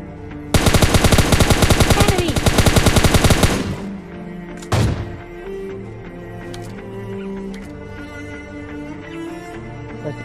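In a mobile battle royale game, a rapid, loud burst of automatic gunfire rattles for about three seconds, followed by a single sharp shot, then quieter in-game ambience.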